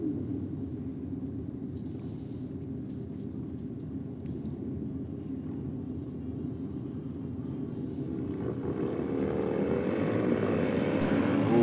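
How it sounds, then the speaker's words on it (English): Harley-Davidson motorcycles racing down a drag strip, a steady distant engine drone that swells and grows louder toward the end, with no voices heard. "Harleys on track now."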